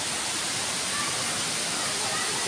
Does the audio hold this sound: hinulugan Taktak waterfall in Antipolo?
yes